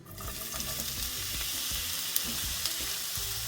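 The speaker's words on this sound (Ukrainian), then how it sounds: "Я цибулю пасирую без додавання борошна" Steady, crackling sizzle of onion frying in oil in a hot pan without flour, with faint scraping stirs and a couple of sharp pops.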